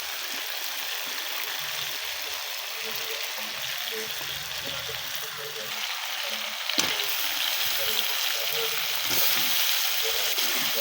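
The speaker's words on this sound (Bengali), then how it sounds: "এখন আমি লাউগুলো দিয়ে দেবো।" Chunks of bottle gourd go into a pan of goat meat already browned with fried spices, giving a steady, close hiss of frying with a few soft stirring knocks and scrapes throughout.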